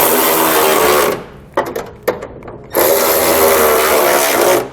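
Bolts on the underside of DeeZee oval tube running boards being tightened with a power tool, loud close whirring bursts broken by a short gap with a few quick clicks and spurts.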